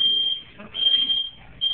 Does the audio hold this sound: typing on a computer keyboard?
no